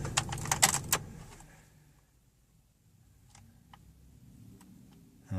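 Keys jangle sharply up close as a key goes into the ignition of a 2009 Dodge Caliber, followed by quieter ticks and clicks from the car in a still interior.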